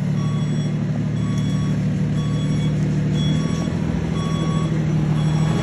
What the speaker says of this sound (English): I have a truck coming right now.